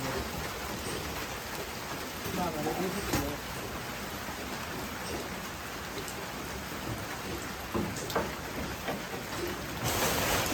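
Steady rain falls in a Bangladeshi village, a dense, even hiss that holds throughout with a few louder patters, while faint voices sit underneath.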